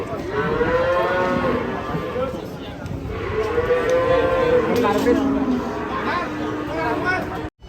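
Cattle being unloaded from a pink truck moo loudly and continuously, long overlapping bellows close by amid crowd noise and people talking.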